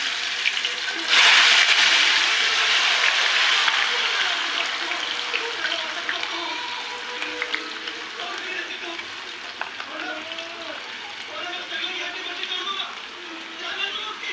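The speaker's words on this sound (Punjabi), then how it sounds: "ਤੇਲ ਹੋ ਗਿਆ ਪੂਰਾ ਗਰਮ ਤੇ ਆਪਾਂ ਹੁਣ ਇਹਦੇ ਵਿੱਚ ਛੱਡ ਦਿੰਦੇ ਹਾਂ" Potato French fries drop into hot oil with a sudden loud burst of sizzling that settles into a steady bubbling fry, with a voice talking over it.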